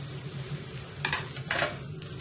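A spoon stirs cooked basmati rice through a gongura mixture in a pan, with two short scraping strokes over a soft, steady sizzle.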